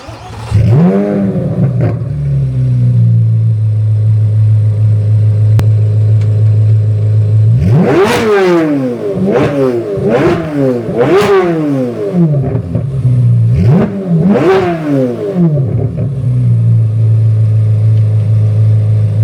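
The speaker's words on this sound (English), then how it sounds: "So here's how the car sounds without the cat delete pipes." A C8 Corvette Z06 with an F1 track exhaust and catalytic converters still fitted idles with a steady low rumble, then is blipped through a run of sharp, loud revs that climb and fall back, heard up close with no talk.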